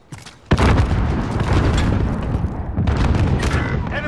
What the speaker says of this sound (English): That's a bad grenade.